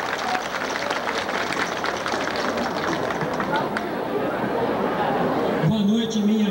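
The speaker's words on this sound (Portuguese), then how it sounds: "Uma salva de palmas. Vamos aplaudir o José Vitor." Audience applause for a municipal council candidate at a Brazilian campaign event, a dense continuous patter of clapping and crowd noise lasting several seconds, with a voice briefly heard near the end.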